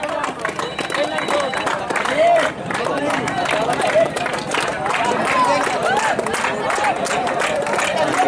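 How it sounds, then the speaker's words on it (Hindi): Crowd applause and cheering at an outdoor kabaddi match between Raniganj and Om Sai Academy Pratapgarh, a steady wash of clapping and crowd noise throughout, with a voice calling over it. "तालियों की गड़गड़ाहट जारी है"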